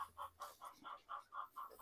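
Hens clucking steadily in a backyard coop where they have just laid eggs, a rhythmic series of about eight short, fairly faint clucks at an even pace with no one speaking.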